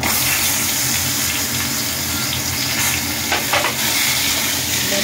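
Mango pieces and panch phoron with dried chili being stirred in hot oil in a frying pan for mango chutney, a loud, constant close sizzle with scraping stir noises.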